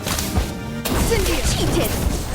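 An Expulso spell in Harry Potter Magic Awakened goes off with a sharp crashing blast and whooshing burst, followed by swirling magical tones and scattered impacts, with a voice calling out over it.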